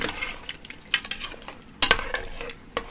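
Repeated clattering taps and scrapes come from a beater stirring in a pot, heard close, with a soft frying hiss underneath. No one talks.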